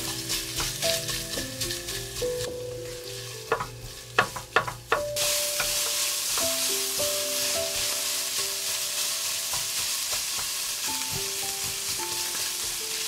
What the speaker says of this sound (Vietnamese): thì mình cho thịt vào xào